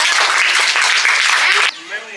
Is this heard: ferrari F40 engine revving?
no